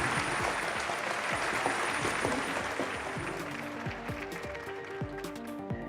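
A crowd applauding a robot performance at a competition, steady dense clapping filling the space, with a rhythmic thumping and some music-like tones underneath.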